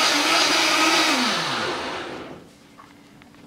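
Vitamix blender whirring at full speed as it blends soaked almonds with water into almond milk, a loud steady roar that winds down and fades toward the end, ending in quiet with a brief knock.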